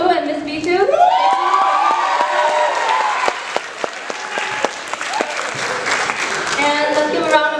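An audience at a school dance event applauds the dance leaders, loud sustained clapping with cheers and whoops, while a voice speaks over the crowd at the start.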